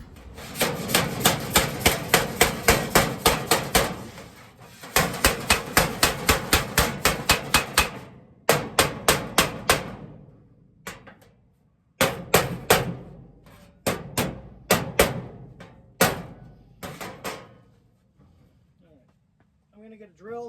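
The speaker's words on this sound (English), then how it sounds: "We'll grab my hammer and do a little bit of fine tuning." Repeated hammer blows on the body of a 1932 Ford being prepped for a race, coming in quick rhythmic bursts of sharp metallic strikes with short pauses between, loud and close; the final blows are more spaced and a voice speaks briefly near the end.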